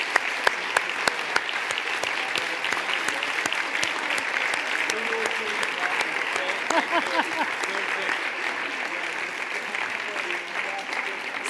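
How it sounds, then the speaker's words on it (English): A conference audience at an eTwinning annual event gives a team sustained applause, dense continuous clapping with sharp individual claps standing out, and faint voices beneath it. "a big round of applause to this team"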